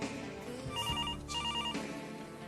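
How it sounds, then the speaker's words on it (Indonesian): An old telephone in a restaurant rings in two electronic trilling bursts with a pause between, clear and fairly close against a faint room hum. "Tiba-tiba telepon berbunyi."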